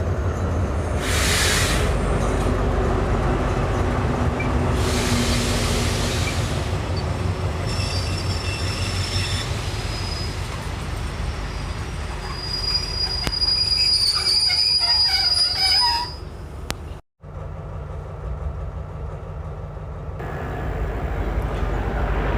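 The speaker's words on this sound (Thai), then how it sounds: "ด่วน 72อุบลกรุงเทพนะคะกำลังจะผ่าน สถานีกลางดงนะคะ" Express train 72 from Ubon to Bangkok rolling through Klang Dong station in Thailand, a long steady rumble of wheels on rail with high-pitched squeals, rising and fading, and a brief sharp dropout near the end.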